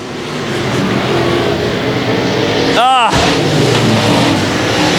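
Race cars at Heart O Texas Speedway roar steadily under a dense wash of crowd and track noise, with one car sweeping sharply past close by near the middle before the engines settle back into a continuous loud drone.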